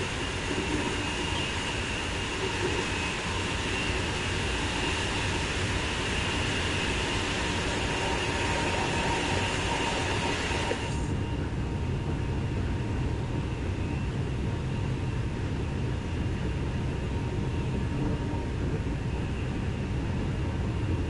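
A TGV high-speed train races past on the LGV Méditerranée, a loud, steady broadband rush of wheels and air that drops abruptly in tone midway as the train passes, continuing as a dense roar.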